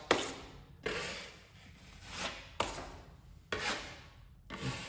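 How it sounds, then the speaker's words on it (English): Drywall knife scraped across a painted wall repair, four long rasping strokes with sharp onsets, close and steady with brief pauses between passes. "I'm just pulling my knife across the repair."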